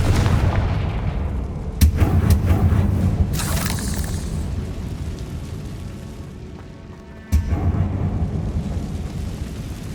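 A Confringo fire spell from Hogwarts Legacy goes off with a booming explosion, followed by crackling fire and rumble, then a second sharp blast hits later.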